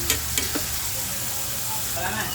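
Tomatoes sizzle steadily in a hot pan as they are stir-fried, a broad crackling hiss with a few sharp scrapes of the spatula near the start, close and moderately loud.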